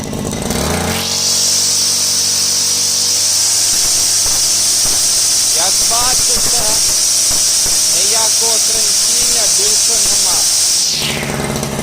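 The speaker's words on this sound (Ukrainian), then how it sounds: "одною рукою тримаю камеру, однією тримаю тример. Даю оберти." A Vitals BK 4123s petrol brush cutter revs up hard and holds a loud, steady high-speed whine with strong hiss for about ten seconds, then drops back to idle, with someone speaking briefly over the engine.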